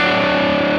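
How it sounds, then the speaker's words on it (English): A brief, loud burst of heavily distorted electric guitar, with strings struck hard in a blues rock riff, sustaining as a thick buzzing tone with no voices. "you really go into these strings and attack them hard and get this distortion really out"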